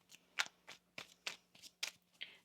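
Tarot cards shuffled by hand: a run of about eight quick, crisp riffling bursts in a steady rhythm, close and fairly quiet, with no voices.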